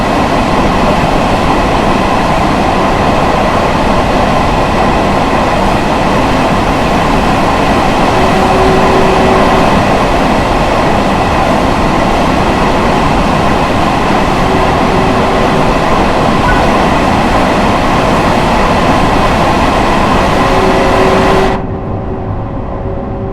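A commuter train runs along the Harlem Line toward White Plains in Train Sim World 5, a loud, steady rolling rumble with faint squeals that cuts off abruptly near the end.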